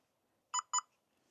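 An RVNovus E-Lock on an RV door gives two short, clean electronic beeps in quick succession while its key fob is programmed. The beeps are close and isolated against near silence.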